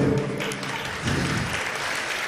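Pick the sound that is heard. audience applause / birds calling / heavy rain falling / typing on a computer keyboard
audience applause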